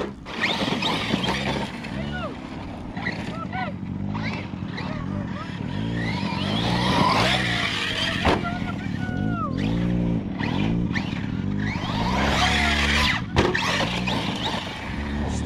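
An Arrma Notorious 6s RC car whines and revs as it drives and skids, its motor pitch sweeping up and down with brief squeals, heard over steady outdoor background and people talking nearby.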